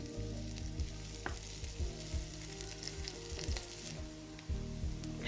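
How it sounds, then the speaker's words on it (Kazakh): Onion frying in a pan until soft, a steady close crackling sizzle with occasional scraping stirs, no talking. "Ең бірінші жуаны жұмсарғанға дейін қуырып аламыз."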